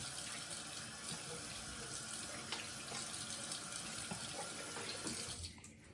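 Water runs steadily from a tap while soap is rinsed off the face, a close, continuous splashing rush that fades out at the end.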